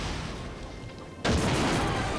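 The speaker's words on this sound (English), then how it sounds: "And random explosion." In The Incredibles: Rise of the Underminer video game, a sudden loud explosion bursts in partway through. A quieter game background comes before it, and a dense roar follows and carries on to the end.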